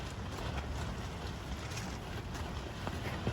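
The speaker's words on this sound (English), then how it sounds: "It's just a little windy." Steady wind rushes and buffets against the microphone at a winter campsite, a constant low roar with no voices.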